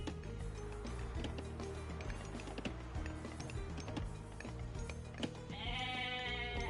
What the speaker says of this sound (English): All the sheep are fattened up now.